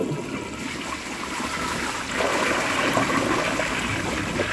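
A 1953 Crane Santon toilet flushes a washcloth: a rushing, gurgling surge of water that swells partway through and keeps draining strongly, heard up close with no talking.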